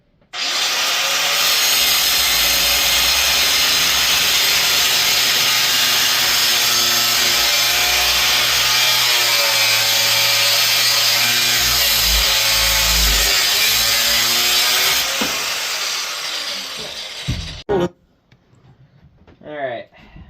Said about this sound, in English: I'm just going to go ahead and cut it out just to save on time